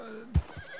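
A horse in the video game Red Dead Redemption 2 Online gives a short, close whinny, followed by a soft hoof thud.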